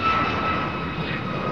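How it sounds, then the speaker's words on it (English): A Korean Air Boeing 777 jet approaching Chicago O'Hare gives a steady, loud broadband engine roar with a faint whine, heard from the ground, with no voices over it. "I think we have a rather decent jet inbound here."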